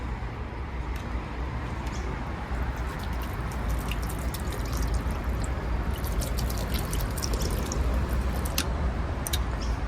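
Fountain water in Sydney's Hyde Park splashes and pours steadily, a loud continuous wash with fine droplet spatter, no voices over it.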